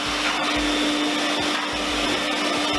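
A Sirena water-filter vacuum cleaner runs steadily with the wand set in its back to dry out the hose, giving a loud, continuous motor whine with a constant airflow roar throughout and no talking.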